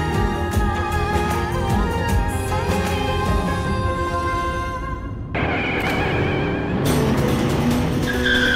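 A car with failed brakes skids, its tires squealing loudly and continuously for several seconds over a constant engine roar, with a brief dip in the middle before the screech resumes.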